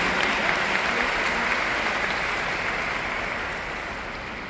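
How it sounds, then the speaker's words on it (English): Sustained, loud audience applause at a leadership training seminar in Budapest, a dense continuous roar of clapping that holds steady before easing slightly at the end. "I really want to give a great applause to our boss, Mr. Riway."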